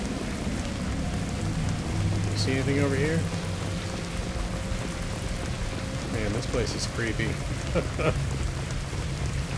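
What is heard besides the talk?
rain in video game Mass Effect 2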